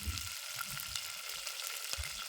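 Ginger garlic paste frying in a pan for egg masala curry, a soft continuous sizzle with faint scraping stirs, fairly quiet and steady throughout.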